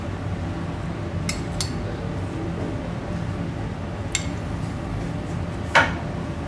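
Cockles and mussels mixed in a container in a Paris restaurant kitchen: several light, sharp shell clinks and one louder knock over a steady background of kitchen noise.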